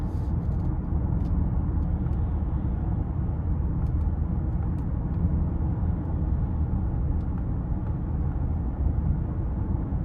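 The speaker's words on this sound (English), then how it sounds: "I'm doing 52 miles an hour. It is so quiet in this vehicle." Steady, muffled road and engine hum inside the cabin of a 2026 Mercedes-Benz GLE 450 Coupe cruising at 52 mph, a low constant rumble with faint tyre noise and no talking.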